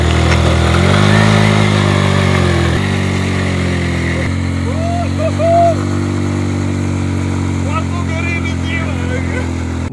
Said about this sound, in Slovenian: dajmo zdaj probati, če da garili en dober burnout od sebe